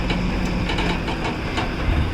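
A rail engine built for heavy construction work, made by SAN, rolls along tracks inside Gwalior Fort, giving a steady, loud rumble with faint rhythmic clatter throughout.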